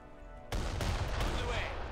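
Battle gunfire in Iron Harvest erupts suddenly after a quiet moment and becomes a dense, continuous roar of shots and explosions, loud and sustained to the end.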